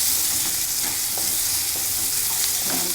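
Potato and spinach with garam masala and coriander powder frying in a pan while being stirred, a steady loud sizzle with soft scraping strokes throughout and no talking.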